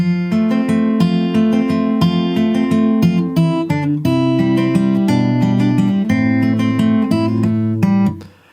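A plucked acoustic guitar riff with ringing open strings, a short repeating pattern played close and fairly loud, fading out at the end.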